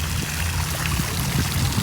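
Water splashes steadily from a bowl held by a sculpture of three ladies into a small fountain near Lake Thun, Switzerland, a continuous close, bright pouring stream with no voices.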